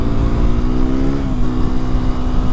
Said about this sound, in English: The rev matching is so crazy